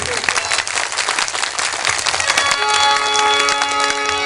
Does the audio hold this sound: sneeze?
no